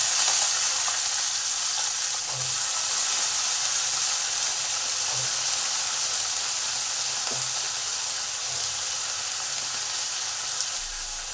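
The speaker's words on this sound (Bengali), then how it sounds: "রসুনটা ভালো করে ভাজা হয়ে এসেছে, এই সময় আলু কুচিটা দিয়ে দিলাম।" Chopped potatoes added to garlic frying in oil in a pan sizzle with a steady, even hiss close up, with occasional soft stirring knocks and no talking.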